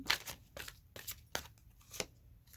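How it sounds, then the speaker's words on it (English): A deck of tarot cards is shuffled in several quick riffling bursts, crisp and close, separated by short pauses. "One more shuffle."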